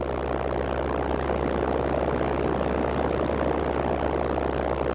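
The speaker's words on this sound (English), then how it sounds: "The propeller sound." Small airplane propeller sound effect: a steady, loud buzzing drone of a prop engine running continuously without a break, with no voices over it.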